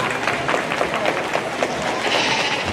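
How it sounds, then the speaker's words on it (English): Audience applause for goat exhibitors in the grand drive at a county livestock show barn, a steady patter of many hands clapping at moderate distance, with a voice speaking over it. "let's give your goat exhibitors out here in your grand drive a round of applause"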